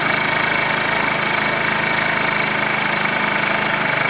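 The small engine of a Tamoretti retro scooter runs close by with a steady, buzzy idle that holds an even pitch throughout, with no other sounds.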